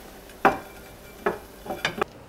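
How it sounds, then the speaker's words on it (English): Shepherd's pie meat mix being spread into a buttered oven-proof dish: a few soft, wet scraping and squelching strokes, close and quiet, spaced irregularly with a quick cluster near the end. "Spread the meat mix into the dish"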